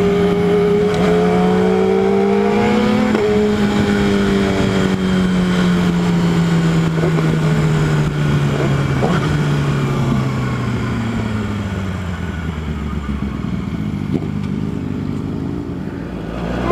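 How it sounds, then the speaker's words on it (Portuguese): A Yamaha R6 sport motorcycle on a ride, its engine droning loudly and steadily throughout, the revs climbing and falling through several gear changes and finally winding down, close and with no talk. "Só um rolezinho na motoca aqui. Na R6."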